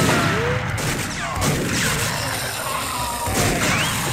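Automated turret fire in the PS2 shooter TimeSplitters on hard difficulty, a dense loud clatter of gunfire and crashing impacts running through the whole stretch with game effects layered over it.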